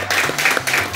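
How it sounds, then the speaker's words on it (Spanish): Audience applause at a corporate show for a knife brand, dense clapping filling a short moment at steady loudness with a low hum underneath. "Les vamos a dar un aplauso a ambos, por favor, muchas gracias."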